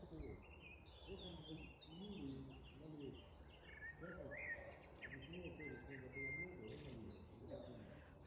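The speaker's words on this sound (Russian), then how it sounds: "Скоро соловьи уже отпоют," Nightingales at dusk in July fill the air with a continuous run of chirps, whistled phrases and trills, moderately distant and fairly faint, with a low cooing-like undertone beneath.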